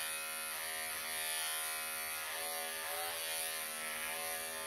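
Electric clippers grooming a long-haired Persian cat, a steady close buzzing drone with slight shifts in pitch as the blades move through the coat, no talking.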